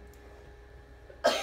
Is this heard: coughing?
yes